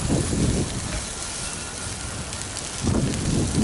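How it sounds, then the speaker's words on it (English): Romaine lettuce searing on a hot grill gives a steady broadband sizzle and crackle, like rain on a surface, swelling louder at the start and again near the end. "This is just gonna sear this up."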